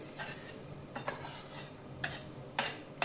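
Spoon scraping and clinking in a bowl while roasted filling is mixed into mashed potatoes for bread vada, a few distinct sharp clanks over soft stirring, close and fairly quiet.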